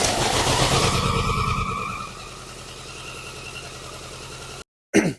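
A BMW K100 motorcycle engine with an over-fuelling fault runs with a rough, throaty idle, rising and then settling lower, before cutting off abruptly with a brief clatter.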